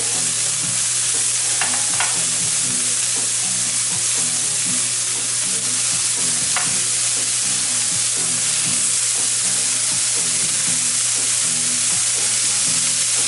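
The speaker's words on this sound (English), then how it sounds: "So I can go ahead and start putting my meat on my griddle. Thin slices of that flank steak." Thin slices of flank steak for steak tacos sizzle loudly and continuously on a hot griddle, with occasional scraping clicks over the constant frying hiss.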